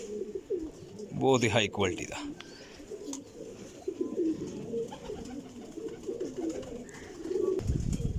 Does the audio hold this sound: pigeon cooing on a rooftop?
yes